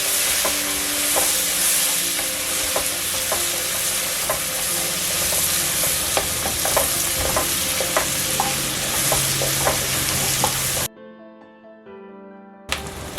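Sliced onion sizzling in a pan for yellow rice, with steady broadband frying hiss and regular utensil scrapes as it is stirred; the sound cuts out near the end, leaving quiet before a brief return.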